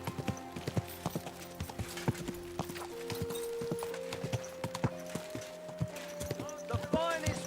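Horse hooves clip-clop in a steady, moderately close rhythm in a video game, joined by horse snorts and a rising musical tone, with background game sounds.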